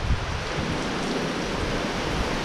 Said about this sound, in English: how long has it been since we've had a downpour like this?